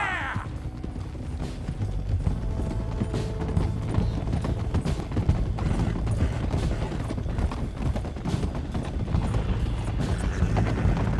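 Several horses gallop together in Red Dead Redemption 2, hooves clip-clopping in a steady, dense rhythm that runs the whole time alongside rattling tack and a continuous rumbling bed of noise.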